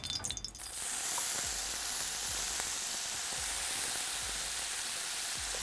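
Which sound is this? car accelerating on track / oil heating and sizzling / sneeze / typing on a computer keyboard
oil heating and sizzling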